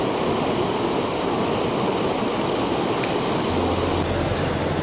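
Ramakri Falls in Bandarban, Bangladesh, where visitors swim, gives a constant, loud rush of falling water, a dense, unbroken roar heard close up from start to finish.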